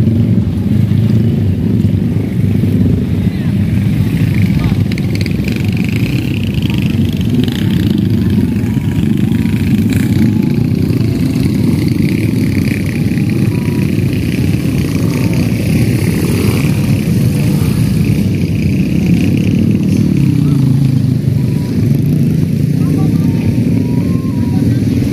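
Honda CB motorcycles run at a community gathering on a beach, their engines giving a continuous loud rumble and drone of many bikes close by throughout, with voices mixed into the noise.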